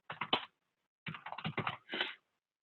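Bursts of quick clicking keystrokes on a computer keyboard as notes are typed, one short flurry, a pause of about half a second, then a longer run of taps, close and quiet.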